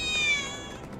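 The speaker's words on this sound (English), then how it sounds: "I swear I just heard a cat." A cat meows once in Final Fantasy VII Remake's Sector 7, a short, clear, fairly quiet cry that fades out, alone without talk.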